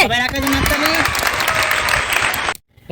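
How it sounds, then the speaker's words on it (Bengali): Children clap their hands during a talent-show prize challenge. The clapping is a dense, continuous burst mixed with voices, loud and close, and it stops abruptly after about two and a half seconds. "সব চকলেট নিয়ে যাও যাও তুমি খুশি যাও হাততালি"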